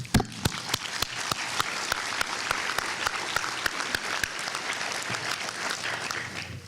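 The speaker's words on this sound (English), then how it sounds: "deserve our thanks and a big round of applause" A crowd at a university graduation commencement ceremony claps in a steady, full round of applause, with a few sharper close claps standing out in a regular beat over the dense wash of hands.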